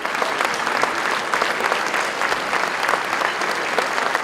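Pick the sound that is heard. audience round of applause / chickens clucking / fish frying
audience round of applause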